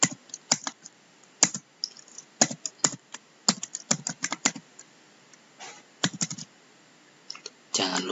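Bursts of clicky keystrokes on a computer keyboard come in quick irregular runs, with short pauses between them.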